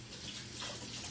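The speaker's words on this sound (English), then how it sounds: "I'm gonna rinse my other hand." A hand is rinsed under a running kitchen tap while making tortillas, a steady close splashing of water with no pauses.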